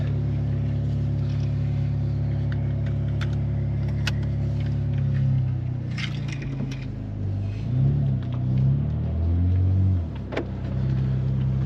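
A BMW M3 M Performance pulling away, its engine heard from inside as a low steady rumble that swells and shifts in pitch as it accelerates, with a few light clicks and knocks over it.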